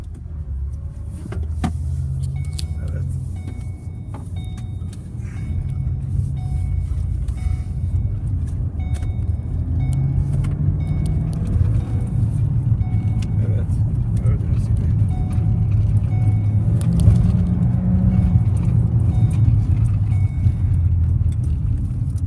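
A Ford Kuga engine idles steadily after switching over to LPG, a low continuous rumble close by with a few faint electronic beeps, while someone talks over it.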